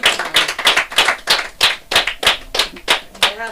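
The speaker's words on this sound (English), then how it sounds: "Round of applause for today." At a live comedy show, distinct, sharp handclaps ring out in a quick, fairly regular rhythm, about a dozen crisp strikes close by, like a small group clapping rather than a roaring crowd.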